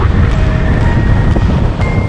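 Wind rushes loudly and constantly past the microphone during a paragliding flight over the Julian Alps, a heavy, low buffeting roar that never lets up.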